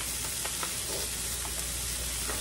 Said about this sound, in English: Let me stir it around in here and see